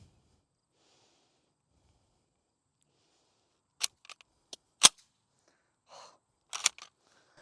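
Sharp metallic clacks and snaps of an en bloc clip of M2 ball ammunition being worked into an M1 Garand rifle, a few scattered close clicks after several seconds of near silence, with no talk.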